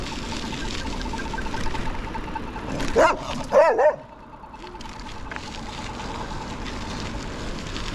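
Several quick barks and yips from a dog at a delivery courier, heard in a short burst over steady road and wind noise.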